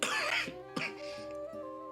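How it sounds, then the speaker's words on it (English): A couple of rough, close coughs in quick succession over a steady background hum, then a lingering throaty rumble. "I do apologize for the coughing again."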